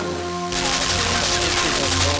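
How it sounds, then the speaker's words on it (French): A cannon in the video game Limbo fires, a sudden loud blast that opens into a sustained, roaring burst of noise over a low droning game ambience. "Là, ça déclenche le canon."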